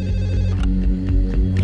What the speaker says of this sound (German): Am anderen Ende der Stadt weckt ein Telefonanruf